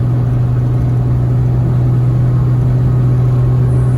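A Cummins diesel pickup engine laboring up a long hill at high RPM, a loud, steady droning rumble heard from the cab without pause and with no talking.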